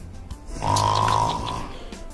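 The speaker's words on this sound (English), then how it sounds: "Has been snoring like an idiot." A woman snores in her sleep after coming home from a party, one long rasping, buzzing inhalation that swells and fades, close and fairly loud with no speech over it.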